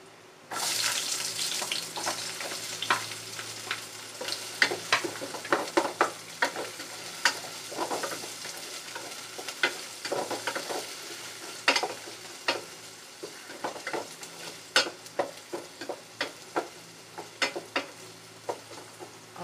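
Sliced onion sizzling in hot oil in a pan for a home-style Filipino pesang tilapia, with steady frying hiss and repeated close clinks and scrapes of a utensil stirring, no voices.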